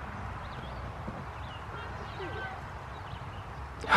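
Horses walk outdoors in freezing weather, their hooves clip-clopping softly under steady background noise and talk.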